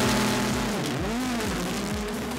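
Onboard a rallycross car driven by Gronholm launching off the start line at Latvia RX, its engine roaring loud and close, pitch climbing then dropping through rapid gear changes.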